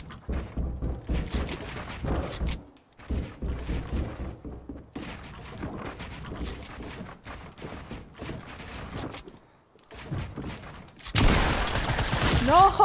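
Rapid bursts of Fortnite gunfire crackle through a gameplay match, with speech-like sounds in between volleys and a dense, loud burst near the end.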